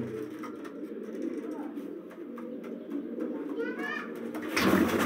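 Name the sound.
pigeons cooing in breeding loft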